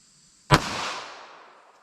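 A single sharp .380 ACP pistol shot from a Ruger LCP with a 2 3/4 inch barrel cracks close and loud, then a longer echo tails off through the rest of the moment.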